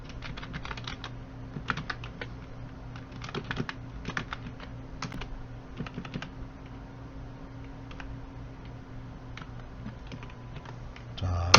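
Quick, light clicks of typing on a computer keyboard, a steady close patter with a few brief pauses, during a spreadsheet lesson, with quiet talk in the background.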